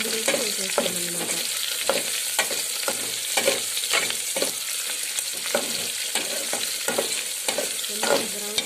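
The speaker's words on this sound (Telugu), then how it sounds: "ఇది బ్రౌన్ కలర్ వచ్చే వరకు వేయిస్తామన్నమాట" Onions sizzling in a pan for eggplant chutney, a constant close hiss broken by a regular rhythm of spatula scrapes and stirring knocks.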